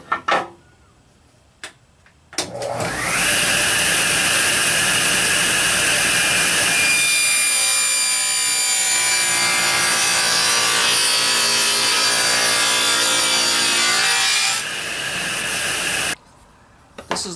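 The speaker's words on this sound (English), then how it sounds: "I made a center cut to lighten the load on my dovetail bit" A power saw cuts down the center of an oak piece for a dovetail bowl, starting after a few faint knocks and then running as a loud, sustained whining drone for about twelve seconds before spinning down and stopping.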